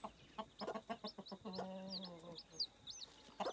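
A hen with her chicks gives a series of short, soft clucks in an uneven rhythm, joined by high, thin chick peeps overhead; close and fairly quiet, with no talking.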